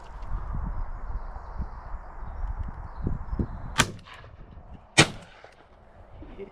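Two sharp shotgun blasts about a second apart while shooting at crows and jackdaws outdoors, each a loud crack over a low rumbling background.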